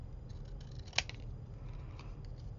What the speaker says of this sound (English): I'm going to fussy cut this snowman out